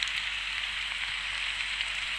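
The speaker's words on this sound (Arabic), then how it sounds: "عربية مدرعة عشان كده هتحميني من المطر" Steady hissing rain falls in the Roblox video game, a constant even wash of droplets with no voices over it.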